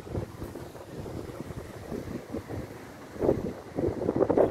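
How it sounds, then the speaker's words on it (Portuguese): Strong gusts of wind ahead of an approaching storm in Aparecida de Goiânia, Brazil, buffeting the microphone in a continuous roaring rush that swells louder toward the end. "tá se aproximando com ventania, né, meus amigos? Ventania."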